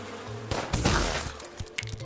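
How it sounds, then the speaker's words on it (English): A swarm of angry bees in a roguelike video game buzzes loudly and close, with a dense droning hum in short bursts mixed with sharp cracking impacts, no voices. "he will spawn a swarm of angry bees that chases enemies"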